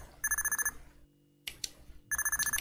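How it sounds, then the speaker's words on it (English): A telephone rings in a Rootman bodycam horror game, two bursts of bright, trilling bell rings separated by a short pause, with a scrape in between, close and clear with no talk. "Or is that the phone?"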